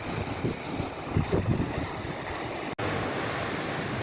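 Black Sea surf rolls onto an Odesa beach in winter, watched from a lifeguard booth: a continuous wash of waves under heavy gusting wind noise, with no voices.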